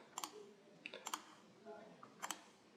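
Several sharp computer mouse clicks, mostly in quick pairs, sound close and crisp against a quiet background, with soft speech in between.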